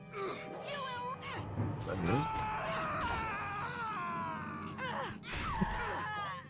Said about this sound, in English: I do love the dead screams though